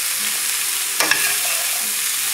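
Whole wheat pasta sizzles steadily in a hot pan, and a brief knock and clatter sounds as tomatoes are tossed in. The frying hiss carries on evenly throughout.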